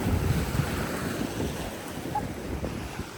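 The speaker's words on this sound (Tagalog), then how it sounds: "Grabe yung alon, nakakatakot no." Ocean waves off the coast of Japan make a steady, close rushing wash mixed with heavy wind buffeting the microphone, with no voices.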